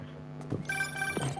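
A phone rings with a brief, electronic tonal chime in Marvel's Spider-Man 2. Two short ringing pulses play close and clear, with no talk over them.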